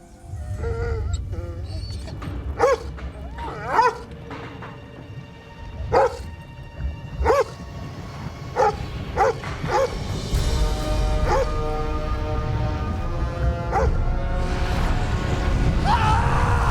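A dog barks in a series of sharp, separate woofs spread irregularly over several seconds, moderately close, against a low rumbling background that grows steadier toward the end.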